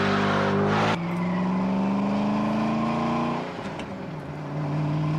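A 2004 Ford GT's engine in a television commercial, a loud close roar that revs hard, drops pitch at a gear change, then climbs steadily before dipping and building again.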